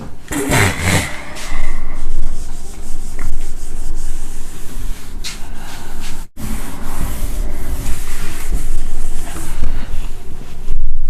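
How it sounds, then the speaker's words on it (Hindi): Whiteboard being wiped clean in a maths class, a loud, rough rubbing scrape in repeated strokes lasting several seconds, with one brief pause midway and no talk. "इसको रब कर देते हैं"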